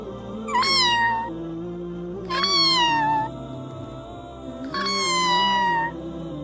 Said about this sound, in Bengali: মিকি কাছে গেল আর ম্যাও ম্যাও করে